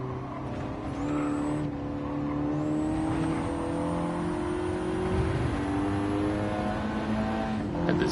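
Race car in Gran Turismo 7 accelerating through its gears, a continuous loud engine tone rising in pitch, dropping briefly at gear changes, then climbing again.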